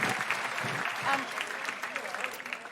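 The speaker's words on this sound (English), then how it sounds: "Big round of applause for Jess" A live comedy podcast audience applauds steadily for a guest: dense, continuous clapping from many hands at moderate distance, with a voice talking over it.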